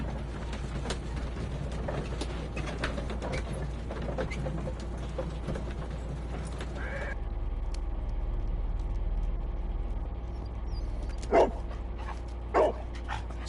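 A dog from the Sherlock Holmes Crimes and Punishments video game gives a few short barks and sniffs over a steady low game ambience and music, with two louder yips near the end.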